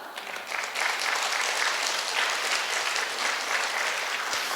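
Congregation in a church service clapping together, a steady, moderately loud round of applause that swells after a soft start and carries on throughout.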